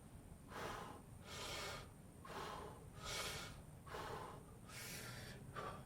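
Steady, rhythmic breaths out during a dip exercise, about five or six close, soft puffs of air evenly spaced, with no talking.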